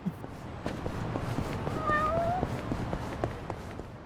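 A cat meows in the video game Yakuza: Like a Dragon, giving a couple of short, clear mews in the middle of a steady bed of in-game ambience. No speech is heard.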